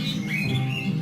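Birds squawking around a small bird pool in a prison yard, a steady mix of close, harsh calls against a constant low background hum, with no talk.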